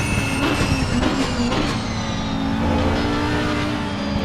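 Audi GT3 race car, number 444, racing at Imola in Assetto Corsa Competizione, with a loud continuous engine note that drops as it comes off the throttle under braking, steady and close throughout.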